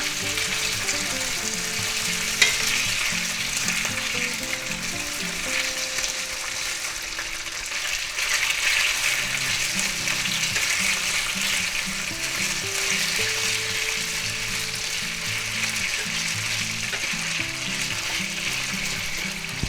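Pork and vegetables sizzling loudly in hot oil during a stir-fry for sweet and sour pork, a dense continuous hiss with spatula clatter and stirring throughout, no speech.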